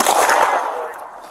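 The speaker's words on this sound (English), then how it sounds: "Police shots fired." A police gunshot at a suspect outdoors: one loud sharp crack with a long echoing tail that fades within about a second.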